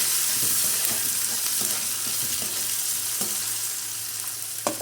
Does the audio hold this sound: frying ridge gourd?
yes